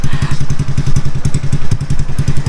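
A Honda EX5 Dream motorcycle engine runs close by with a loud, rhythmic, rapid low putter, steady throughout with no talking.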